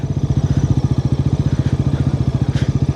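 A motorcycle on a rural road in Rishing municipality, Tanahun, gives a steady, rapid, evenly pulsing engine thump, close and constant for the whole span.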